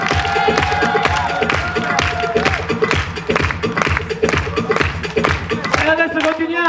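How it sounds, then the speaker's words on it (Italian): Audience at a resort hotel show in Egypt clapping and cheering, loud dense applause with scattered shouts over music, a presenter's voice heard over it. "Ladies and gentlemen, big applause for Mrs."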